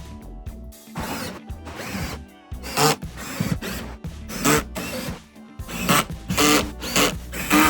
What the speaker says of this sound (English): Put the side panel back on the unit with the same screws